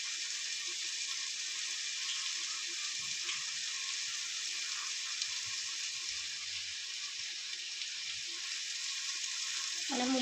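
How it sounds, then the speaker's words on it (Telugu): Green chillies and tomato fry in hot oil with a steady, bright sizzle that stays even and fairly close throughout, with only faint background sounds. "పచ్చిమిర్చి టమోటా మాత్రమే వేసి వేయించుకుంటున్నాం ఆయిల్లో"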